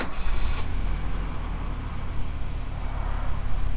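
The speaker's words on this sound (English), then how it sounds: "As soon as you hit the key, she just fires right to life." A Volvo 245 Turbo catching on the key and settling into a steady idle, a deep low rumble running continuously up close after a brief starter burst at the start.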